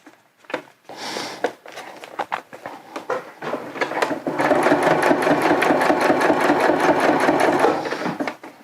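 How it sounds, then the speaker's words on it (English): A sewing machine stitches fabric for homemade rain overmitts around the thumb area, running in short start-stop bursts at first, then settling into a steady, close, loud whirring run. "I'm going to sew around my thumbs first."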